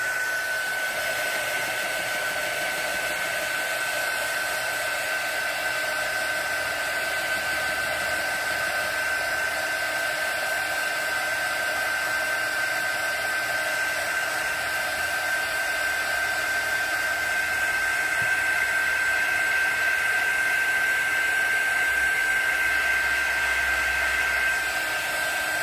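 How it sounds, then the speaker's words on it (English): A heat gun blowing steadily on a resin mold, a loud continuous whirring rush of air with a high motor whine, unbroken for about 26 seconds with no talk. "you can take your heat gun, hold your ears"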